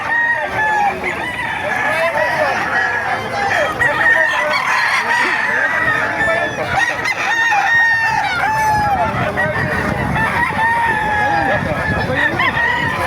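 Several roosters crow over a dense, continuous din of clucking chickens at the early-morning chicken market in Bocaue, Bulacan, a busy crowded flock filling the space with overlapping calls.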